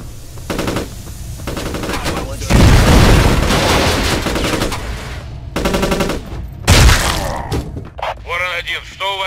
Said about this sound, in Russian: Что за взрывы?